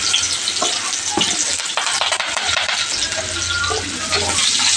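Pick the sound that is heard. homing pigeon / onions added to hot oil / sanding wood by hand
onions added to hot oil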